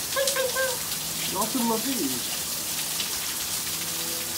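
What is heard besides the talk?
rain falling outdoors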